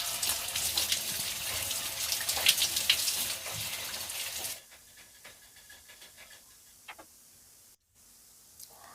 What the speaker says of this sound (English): I will head over to the shower to rinse off and shampoo my hair.